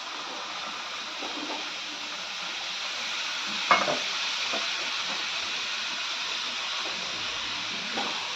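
Soaked moth bean dal is stirred into masala frying in oil. A continuous close sizzle runs throughout, with soft scraping strokes and one sharper knock of the spoon against the pan partway through.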